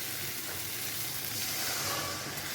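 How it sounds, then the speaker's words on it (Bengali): Coconut milk poured into a sizzling prawn malai curry masala in a pan, giving a steady, close sizzle and bubbling hiss that runs evenly throughout, with no talking. "এখন আমি দিয়ে দেবো এই নারকেলের দুধটা"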